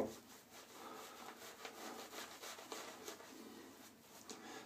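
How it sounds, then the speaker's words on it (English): A shaving brush swirls steadily against shaving soap to build lather, a soft continuous rubbing and brushing sound, close and quiet, with no talking. "so I figured I'd start lathering up"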